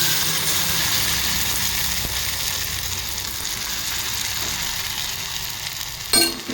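Batter sizzling in oil in a pan, a steady close crackle of frying that holds throughout, ending with a brief clatter near the end.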